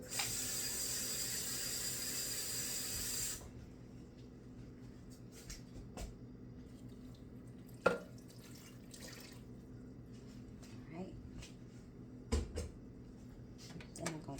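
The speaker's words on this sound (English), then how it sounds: "Just gonna take a regular cup and add water to it." Water runs steadily for about three seconds as a cup is filled to pour over seasoned meat cooking for Philly cheesesteak sliders, then gives way to quiet kitchen clatter with a few small knocks.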